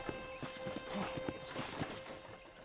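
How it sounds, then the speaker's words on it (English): Horse hooves clop in a steady walking rhythm during riding in the video game Red Dead Redemption, quiet, evenly spaced hoofbeats with a faint steady tone underneath. "let's see if you can still ride a horse."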